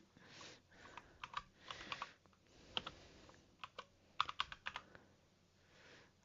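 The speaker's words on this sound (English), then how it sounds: "I'm going to probably disappear slightly off camera a second while I get to my keyboard" Keys clattering on a computer keyboard in irregular bursts of quick, crisp clicks, close by and fairly quiet, with no talking.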